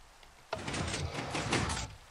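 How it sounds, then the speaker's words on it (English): A gate in a Minecraft-style video game slides shut by itself with a sudden mechanical onset and a steady grinding rumble lasting over a second, then stops. "gate shut itself"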